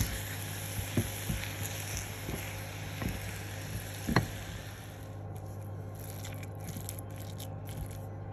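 Minced meat with ras al hanout and spices sizzling in a pan for meat bricks, a soft continuous frying hiss with occasional scrapes of stirring and a steady hum beneath.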